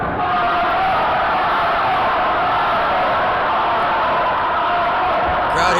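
Loud, dense wrestling-show crowd roaring and cheering steadily in support of a wrestler named Spyder, a continuous wall of voices with no gaps.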